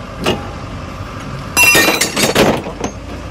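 A wrench loosening the ball joint on a Dodge Ram 1500, metallic clanks and clinks, a single knock first, then a louder cluster of rattling metal strikes, close and without talking.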